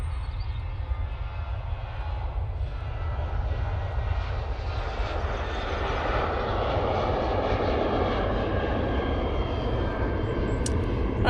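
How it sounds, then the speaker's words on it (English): A Ryanair Boeing 737-800 departs from Manchester Airport with a steady, broad jet engine roar at moderate distance that builds slowly and holds throughout, with no talking. "Ryanair 737-800 now departing."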